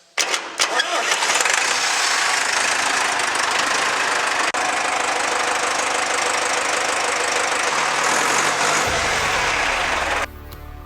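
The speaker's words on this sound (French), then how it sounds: "On vient simplement prendre la clé et faire contact." A restored tractor's engine turns over on the key and fires into a loud, steady running drone that holds for several seconds, then drops sharply near the end.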